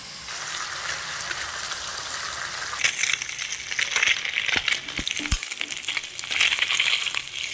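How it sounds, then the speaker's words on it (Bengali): Fish frying in hot oil, a steady crackling sizzle throughout with brief clinks and stirring noises partway through, close and fairly loud, with no voices. "এইভাবে আমি প্রতিটা মাছ ভেজে নিচ্ছি।"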